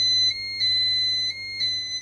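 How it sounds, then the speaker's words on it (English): A Pyronix EURO-46 alarm panel, set off by an opened door contact on an exit door, sounds a steady high electronic tone that repeats in short pulses with brief gaps, loud and alone. "Now you see alarm is triggered."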